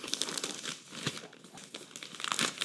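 A Financial Times newspaper is pulled apart and folded up, giving a steady run of close, dry paper crinkling and rustling with brief tearing-like crackles, heard on its own without speech.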